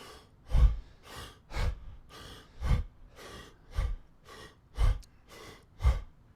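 Deep belly breathing exercise: six slow, rhythmic breath cycles, each a soft airy inhale building to a stronger exhale, close and alone with no talking.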